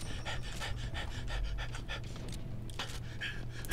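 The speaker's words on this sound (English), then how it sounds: "That is a dog." A dog pants in rapid, steady rhythmic breaths in the alien shooter game Soldiers of the Universe, fairly close and continuous, with game sounds faintly beneath and no talk.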